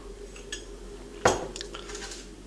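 A spoon strikes a bowl with one sharp clink while three spoonfuls of sugar go into a tiramisu cream, followed by soft scraping and light taps against the rim.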